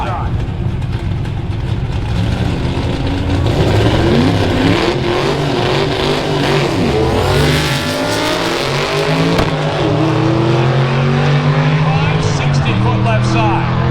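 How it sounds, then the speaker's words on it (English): Drag racing pickup trucks, a turbocharged Coyote-powered Ford Ranger and a nitrous small-block S10, roaring down the strip at a Georgia motorsports park, engines revving hard and passing loudly, with an announcer talking throughout. "Brazel in the S10 pickup truck with a little bit of nitrous on top of the small block."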